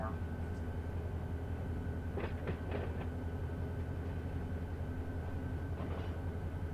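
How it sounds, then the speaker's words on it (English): Freight train rumbling along in Run8 Train Simulator, a steady low drone of rolling stock with a few brief clanks and squeals, running continuously throughout. "my train is going 19 right now"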